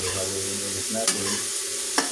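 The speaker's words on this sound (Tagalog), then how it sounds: "ikot natin." Chayote and ground pork seasoned with fish sauce sizzle in a pan while a utensil stirs them, sharp scraping strokes at about one-second intervals over a continuous close fry.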